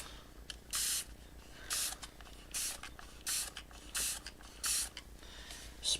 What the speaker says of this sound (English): spritz them just ever so slightly, and it lets them kind of bleed out a little bit